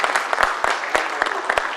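An audience at a Hindi-speaking public gathering claps in brief, scattered applause.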